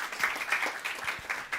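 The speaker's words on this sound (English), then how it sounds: "Let's give applause." Brief burst of audience applause after a talk at JuliaCon 2024, a roomful of people clapping steadily at moderate volume through the whole short moment.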